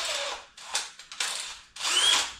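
A cordless power drill runs in short bursts of whirring and ratcheting mechanical noise, several stop-start pulses close to the microphone, with no talk.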